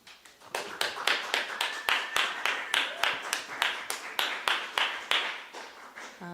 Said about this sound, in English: let's give a warm round of applause to the trailblazing team of Kim and Jan.